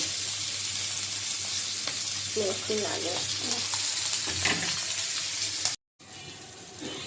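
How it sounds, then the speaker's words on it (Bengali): Koi fish fries in a pan with a continuous close sizzle and some stirring, a voice briefly audible in the middle, then a short cut to silence before the crackling resumes. "মাছটা বেশি করে ভেজে নিতেছি"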